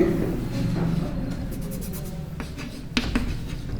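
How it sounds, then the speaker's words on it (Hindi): Pen writing out a class 10 maths solution on paper, a close, soft continuous scratching with brief tapping strokes, no talk. "यहां पर लिखेंगे"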